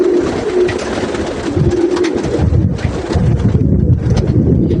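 Pigeons coo steadily in a loft at a Baku pigeon club, with overlapping low, throaty calls rolling on throughout, close and fairly loud, over a background of wind-like rustle.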